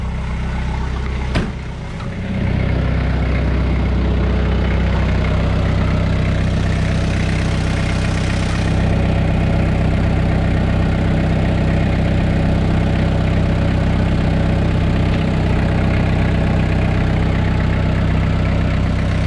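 A Toyota Hilux rock crawler's 5L turbo engine, fitted with a new 12-volt fuel pump, runs at a steady idle with a loud, even low rumble after a brief start-up transient.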